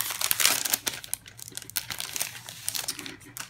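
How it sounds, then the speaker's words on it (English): Crinkly plastic packaging around business card pages being wrestled open, a close, loud run of crackling and rustling bursts with no voices. "I can never get these little plastic things open."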